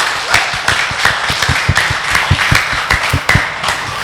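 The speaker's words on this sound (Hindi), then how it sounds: "दोबारा तो तालियां बनती है बॉस।" Steady applause from a crowd at a dance competition show, dense clapping that continues throughout at an even, fairly loud level, with no voices standing out.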